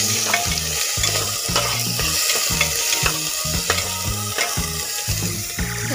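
Ginger and garlic frying in a pan, a loud continuous sizzle broken by rhythmic scraping strokes of stirring, close up with no talking.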